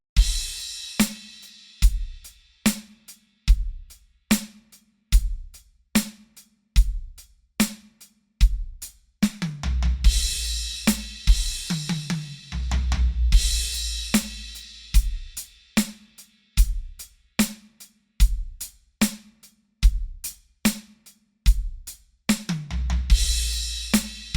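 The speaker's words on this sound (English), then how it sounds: "Played with the 3 bars and then the 1 bar fill" Drum kit groove played for three bars with band-stab style hits and gaps between them, then a one-bar fill rolling across snare and toms with crashing accents, repeated twice; punchy, close and steady with no voices.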